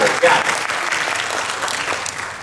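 An audience applauds at an EKAL Connecticut opening gathering, a short burst of clapping with a speaking voice faintly woven through it.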